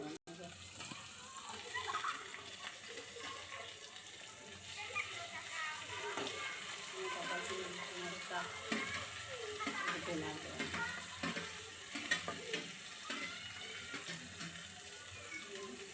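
Food frying in hot oil for a non-veg biryani, a continuous close sizzle with bubbling and stirring, with a voice speaking over it at times.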